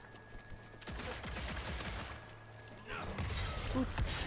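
Bursts of gunfire in the video game Evil West, with rapid shots and crashing impacts in the game mix, at moderate level and fairly busy.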